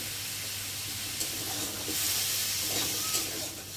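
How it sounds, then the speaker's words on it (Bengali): Potato and pumpkin pieces frying in a pan with salt and turmeric, giving a steady soft hiss and sizzle that holds evenly throughout, close and fairly quiet, with no talking. "আলু কুমড়োটা একটু ভালো করে ভেজে নেব।"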